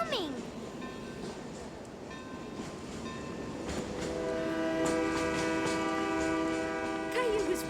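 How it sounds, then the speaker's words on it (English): A cartoon train approaches a station, rumbling louder and closer with sustained horn tones building in the second half, heard alone without talk. "I hear the train. It's coming."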